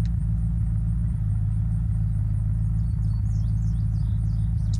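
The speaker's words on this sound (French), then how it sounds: "Camion militaire." Military truck engine in the game Unturned, a steady loud low rumble holding throughout with no speech, and faint bird chirps flickering briefly near the end.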